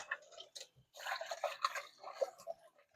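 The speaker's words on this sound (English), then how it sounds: "I still have to rinse out my pan." A waffle pan being rinsed out with water in a home kitchen, giving a run of close, splashing and dripping water sounds with scraping clatter that carries on steadily for about three seconds with no talk.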